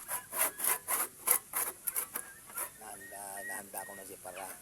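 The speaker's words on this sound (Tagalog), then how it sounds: "Kaya inumpisahan ko na siyang lagarin" A hand saw rasps through rotting bamboo in quick back-and-forth strokes, a dry scratchy rhythm that gives way to a person speaking, with the sawing continuing faintly beneath.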